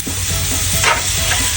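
Garlic and onion sizzle in a hot frying pan for a banana-heart coconut stew, a loud, steady hiss up close with a brief scrape of stirring partway through.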